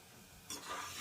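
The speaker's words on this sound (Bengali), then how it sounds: "জলটা দিয়ে পুরো মশলাটাকে ভালো করে কষে নেব" Masala being stir-fried with a splash of water in a pot for a one-pot rajma curry, a quiet lull giving way halfway through to a soft, steady sizzle and scraping stir.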